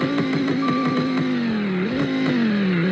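Dodge Viper ACR-E engine revving in a video game, a loud close engine note with quick throttle blips, dipping and rising in pitch over a few seconds, with no voices over it.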